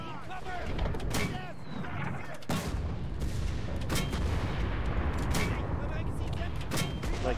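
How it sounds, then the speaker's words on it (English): Repeated booming mortar and gunfire blasts in the World War II shooter game Enlisted, loud and continuous over several seconds, with a player's voice talking over the barrage. "Alright, I'm mortaring this thing."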